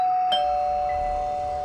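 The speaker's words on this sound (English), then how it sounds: "I heard the doorbell ring." A single electronic doorbell chime sounds clearly and alone. A steady high tone follows it and fades slowly.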